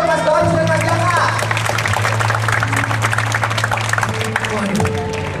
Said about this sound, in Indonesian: Tepuk tangannya meriah untuk Mas Barus dan Mas Jaka